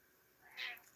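A domestic cat lets out a single short, faint meow in an otherwise quiet room.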